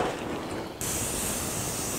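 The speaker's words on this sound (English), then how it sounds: "I'm gonna spray this pan right quick." Cooking spray hisses onto a baking pan, a steady close aerosol burst lasting over a second that starts abruptly after a brief rattle, with no talking.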